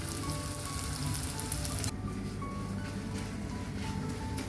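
Onions sautéing on medium flame for a raw banana curry, giving a dense, steady sizzle that drops slightly in brightness partway through and continues alone.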